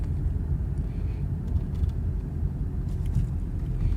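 Car driving on the road gives a steady low rumble of engine and tyre noise inside the cabin, continuous and moderately loud throughout.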